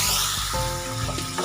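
A paste of onion, garlic and dried chili fries in a pan for an egg and cheese pasta, making a close, steady hissing sizzle throughout a brief moment.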